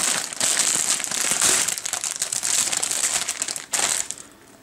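A bag of potato chips opened and crinkled by hand, giving loud, dense crackling and crumpling of the foil packet that continues for several seconds, with a sharper burst near the end before it fades.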